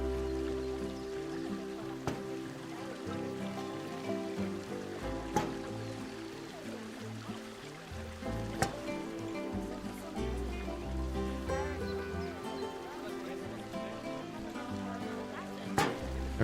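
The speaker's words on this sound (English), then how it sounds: "Huge waterfall for this one" A huge waterfall in the zoo-building game Planet Zoo roars as a steady, dense rush of falling water, continuous and even throughout, with layered game ambience and occasional soft clicks on top.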